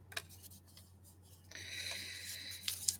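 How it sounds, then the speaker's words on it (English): A pen scratches across paper writing a name, a faint close scribbling with light strokes and a brief, denser scratching run toward the end. "Ayan, sinulat ko na name mo, Kevin, ha?"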